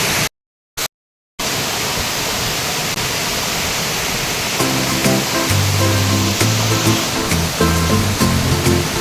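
Barkaniya waterfall in Nayagarh district roars in a loud, dense, unbroken rush of falling water, close by, with a couple of brief dropouts at the start and faint tonal sounds rising over the steady torrent later.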